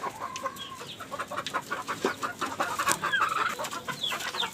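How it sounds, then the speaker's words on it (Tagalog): Chickens cluck and squawk steadily in a busy yard, several birds at moderate distance with a constant hum of farmyard noise and no speech. "Papakain ng manok natin."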